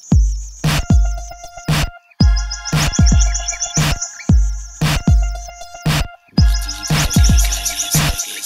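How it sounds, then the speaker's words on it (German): A nightingale sings loudly and close by at night, in repeated rich phrases of sharp whistles, rapid trills and clicks, split by brief pauses. "Bis zum Morgengrauen bleibt dir noch Nachtigallgesang."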